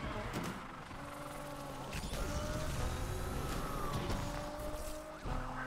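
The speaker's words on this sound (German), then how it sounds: "Aber dieser Sound von der GTR, der ist so wunderbar." Nissan GT-R engine roaring in Need for Speed Unbound while racing through city streets at high speed, a steady loud drone with shifting pitch, police sirens and tire noise mixed in.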